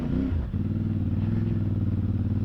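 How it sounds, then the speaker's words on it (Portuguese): CFMOTO 450MT motorcycle with a 270-degree crankshaft engine, a loud, steady throbbing parallel-twin drone close by, with a brief dip and shift in tone around half a second in before settling into an even, pulsing run. "Com aqueles pops and bangs característicos deste motor da CF. A cambota a 270 graus tem sempre aquela sonoridade brutal."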